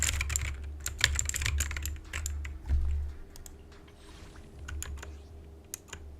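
Computer keyboard typing in quick clattering bursts with brief pauses, close and crisp, over a low steady hum.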